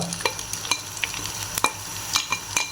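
Spice paste for Lahori black-pepper chole frying in a pan while being stirred, a run of sharp spoon scrapes and clicks every fraction of a second over a low sizzle, close and fairly loud.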